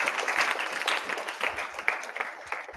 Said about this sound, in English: Everybody, round of applause for this girl.